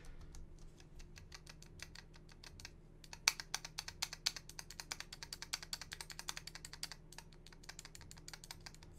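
Rapid typing on a mechanical keyboard with unlubricated stabilizers, loud hollow clacks and a tinny rattle on some keys, a steady hum underneath.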